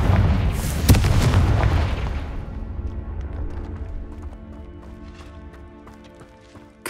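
A Confringo blasting curse exploding in Hogwarts Legacy, a loud, deep boom with a sharp crack near the start that fades into a long rumbling tail and scattered light debris clicks, with no voices.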